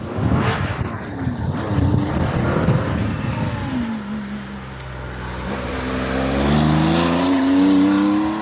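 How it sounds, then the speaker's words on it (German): A Porsche 911 R engine, on a barn-find car being driven hard, roars steadily and loudly throughout, with the pitch climbing under acceleration toward the end and no talking. "Der Motor ist so aggressiv."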